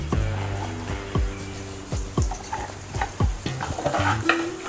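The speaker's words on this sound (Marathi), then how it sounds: "हे तुपामध्ये छान आपल्याला तांदूळ परतून घ्यायचे आहेत" Ground rice roasts in hot ghee in a pan for kheer, a loud close sizzle punctuated by regular scraping strokes of a spatula against the pan bottom.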